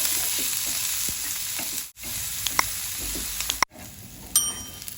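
Onions sautéing with salt in a pan for a Kerala-style ulli theeyal give a steady close sizzle and frying hiss, marked by scraping stir strokes and a few light metallic taps from the utensil, with two brief breaks.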